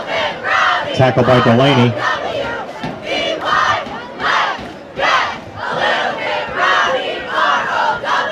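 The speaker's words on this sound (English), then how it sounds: "Good cheers once again from the Durfee cheer section." The Durfee cheer section chants and shouts in rhythmic bursts from the stands at a high school football game against SB, loud and near, with an announcer speaking over the start.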